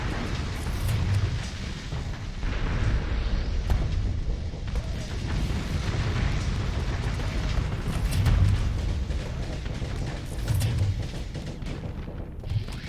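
Explosions erupt as a swarm of fighters strikes a mine in the space strategy game Starsector. Muffled booms roll over a continuous bed of battle noise, with no voices.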